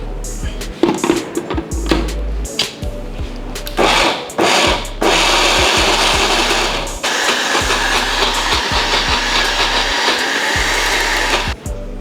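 A kitchen blender whirs steadily as it purées cashew nuts with water, starting with a few short bursts and clatter before settling into a loud, continuous grinding roar.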